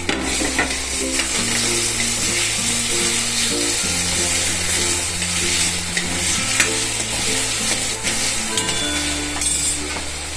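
Finely chopped tomatoes and onions frying in a home kitchen pan for paneer bhurji, with a steady close sizzle and occasional stirring clinks under a low continuous hum throughout.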